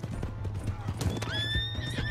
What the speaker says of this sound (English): Is that your new horse?